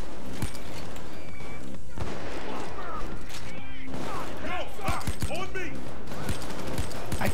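Broomstick Pistol shots in the Payday 2 video game crack out as a string of sharp, close reports mixed with game noise while someone talks over them.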